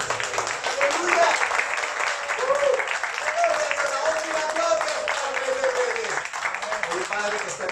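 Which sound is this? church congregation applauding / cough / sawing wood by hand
church congregation applauding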